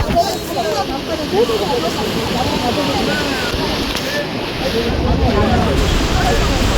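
Seawater surges in on a rainy shore as a loud, continuous broadband rush of waves washes close by, with people talking under the roar.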